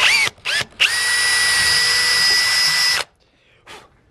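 A power drill bores into a boiled, cleaned goat skull for a plaque mount, with a few short bursts and then one loud sustained high whine of about two seconds that cuts off abruptly, followed by a brief faint trailing burst.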